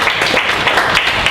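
An audience claps to acknowledge an organizer at a maker education event. The applause is a steady, close ripple of many hands with no voices over it.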